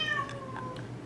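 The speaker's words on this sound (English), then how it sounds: "sorry about my cat being noisy" A house cat meows several times in quick succession, close and fairly loud, with a rising then falling tone, heard indoors during a sewing lesson.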